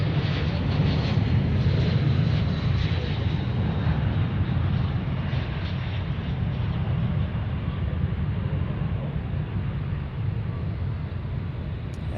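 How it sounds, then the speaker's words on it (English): An airliner landing at Dallas Fort Worth airport, a steady loud rumble of engines and rushing air rolling on without a break, gradually easing slightly as the aircraft slows on the runway. "That's a nice firm landing there."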